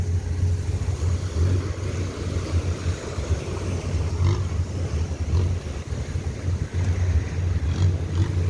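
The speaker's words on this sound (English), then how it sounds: "See the boats are going out right now." Long-tail boats and speedboats motor out to sea off Ao Nang Beach in Krabi, Thailand, a continuous low engine drone and rumble that stays loud and steady throughout, with surf and shoreline ambience beneath.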